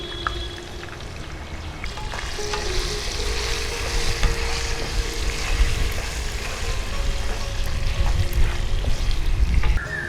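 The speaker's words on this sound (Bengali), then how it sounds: "আলুটা একটু ভাজা ভাজা করে নেব।" Potatoes with salt and turmeric fry in a pan, producing a continuous, fairly loud sizzle with bubbling.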